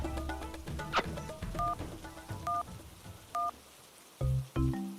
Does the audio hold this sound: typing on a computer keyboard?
no